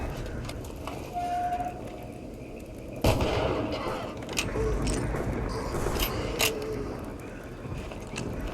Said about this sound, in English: that detonation actually did a bit of damage to our suit